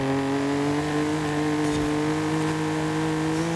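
A steady, loud engine hum from a car in Forza Horizon 5 holds close and constant, revs rising a little toward the end, with no talk over it.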